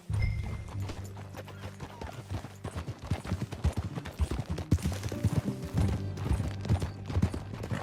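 Horse hooves clip-clopping at a steady ride in the video game Red Dead Redemption 2, rhythmic close hoof beats over a low music bed, with a brief whinny-like tone.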